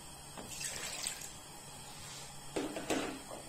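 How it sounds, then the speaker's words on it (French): Water is poured into a pot of beef kidneys, giving two short, faint splashing bursts separated by a quiet pause. "je verse un peu d'eau"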